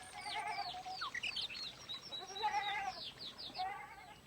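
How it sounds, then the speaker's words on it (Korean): Goats on a farm, a household herd of about thirty, bleat in overlapping wavering calls, some near and some farther off, with birds chirping faintly behind them. "이 가정에서도 30여 마리의 염소를 기르고 있습니다."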